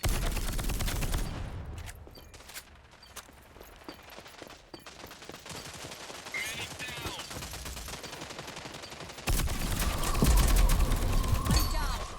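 Gunfire in a tactical shooter video game during a bomb-site defence, with scattered shots and bursts through busy game sound, growing louder and denser near the end.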